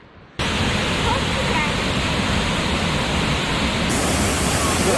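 A muddy, rain-swollen waterfall beside a river, with snowmelt feeding it, roars as a dense, loud, continuous rush of water that starts abruptly and holds steady.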